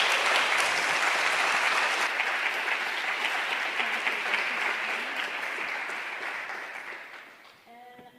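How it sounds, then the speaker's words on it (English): An audience at a climate justice summit applauds its panelists with dense, sustained clapping that holds steady for several seconds, then tapers off and fades out near the end. "So give a round of applause to our panelists."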